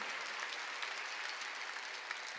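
A church congregation at a Sunday worship service claps together, a faint, steady wash of applause that holds evenly from start to finish.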